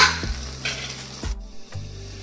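Chopped tomatoes cooking in a covered pan, a soft steady sizzle running throughout, with a few faint clinks of a lid or utensil breaking in.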